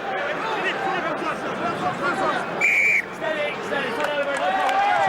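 A rugby referee's whistle at a Heineken Cup semi-final between Stade Toulousain and Biarritz, one sharp blast cutting through stadium crowd noise while a commentator talks throughout.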